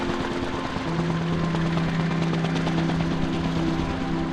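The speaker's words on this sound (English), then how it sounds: "And so we got to utilize helicopters." A helicopter used for long-line power grid rebuilding after the Pacific Palisades fire drones steadily nearby, its rotor thrumming in a constant low pulse with no voices.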